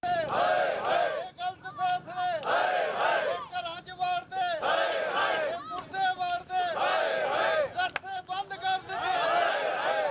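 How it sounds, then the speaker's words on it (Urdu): Protesting local residents chant slogans against a graveyard administration, a loud crowd shouting in rhythmic bursts with brief gaps between repeated phrases, sounding close and band-limited like a news recording. "اہل علاقہ کی جانب سے احتجاج میں قبرستان انتظامیہ کے خلاف نعرے بازی بھی کی گئی"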